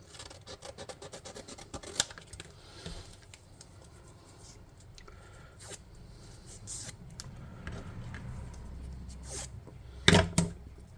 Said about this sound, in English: we'll just cut out 2 long strips and glue it around it in a circle